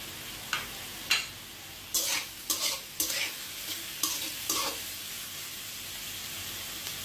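Onions frying in a pan for a hilsa fish curry, with a soft constant sizzle broken by a series of sharp spatula scrapes and taps as they are stirred, then settling back to a quieter fry.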